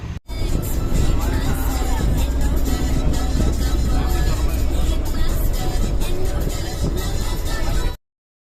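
Steady engine and road rumble inside a moving tour vehicle setting off at six in the morning on a trip to Munnar, continuous and fairly loud with faint background murmur and no clear speech.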